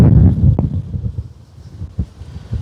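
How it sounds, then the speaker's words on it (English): Strong gust of wind buffeting an outdoor microphone on a blustery day in Lanzarote, a heavy low rumble that swells and fades in uneven bursts with a few sharp thumps. "Just been hit by a big gust of wind there."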